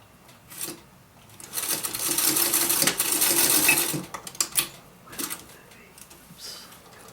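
A sewing machine stitches around the pocket window of a crocheted bag in short runs, with pauses and small clicks between bursts, recorded close up.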